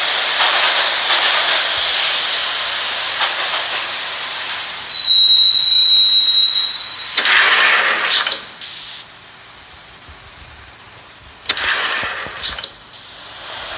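Train in the Max Payne Mobile video game: a loud steady hissing rumble of a moving subway train, a screeching metallic squeal of wheels midway, then quieter stretches broken by short bursts of hiss as it slows and stops.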